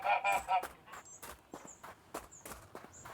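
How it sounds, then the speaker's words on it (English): A goose honks in Scarlet Deer Inn, a few loud nasal honks near the start, followed by steady footsteps crunching along with faint higher calls between them. "Goose."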